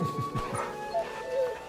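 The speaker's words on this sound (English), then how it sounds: "Yeah, play with your dog," The dog Torgal in Final Fantasy XVI gives a few short yips and barks in quick succession at close range, over a game's ambient backdrop.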